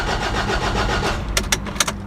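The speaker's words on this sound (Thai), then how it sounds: "ดับเครื่องยนต์และสตาร์ทใหม่ทันที หรือทิ้งไว้สัก 5 นาที 10 นาทีก็สตาร์ทไม่ติด แบบนี้" Mazda BT-50 with a 2.5 Duratorq diesel engine, shared with the Ford Ranger, cranking with a fast, steady churn that fails to catch, ending in a few sharp clanks and bursts, close and loud.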